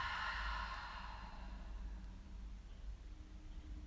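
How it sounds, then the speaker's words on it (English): One long, breathy exhale through the mouth during yoga breathing, close and soft, strongest at the start and slowly trailing off into quiet room noise. "Big exhale through the mouth."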